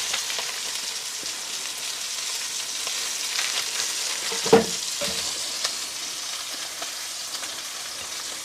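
Y-bone steak sizzling steadily in a pan, a continuous close frying hiss with a brief louder pop midway and a few small clinks, no voices.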